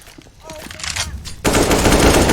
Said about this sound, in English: Here comes Trouble, though. Trouble with big AK shots.